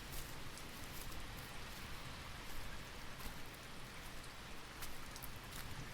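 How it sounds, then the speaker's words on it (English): Mild rain falls steadily over open countryside, a soft, even hiss of drops with a few brighter patters, faint and continuous throughout with no other sounds. "soon the mild rain will become a downpour."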